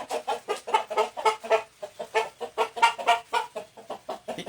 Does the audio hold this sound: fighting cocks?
yes